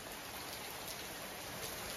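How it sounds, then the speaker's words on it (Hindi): Heavy rain pours down in a steady, dense hiss of drops striking surfaces, close and continuous with no pauses and no voices. "बारिश हो रही है गाइस जोरों की"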